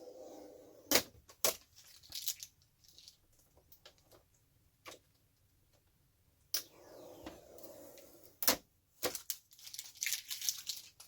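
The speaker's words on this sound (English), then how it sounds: "So we'll peel the tape and stuff off." Packing tape and protective plastic are peeled and crinkled off a Silhouette CAMEO 4 vinyl cutter, quiet ripping and crackling in scattered bursts with sharp snaps, close up and otherwise near silent.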